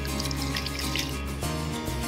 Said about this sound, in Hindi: चावल भिगो के रख देते हैं,